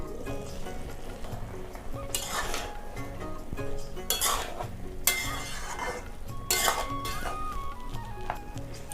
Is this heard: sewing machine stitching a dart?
no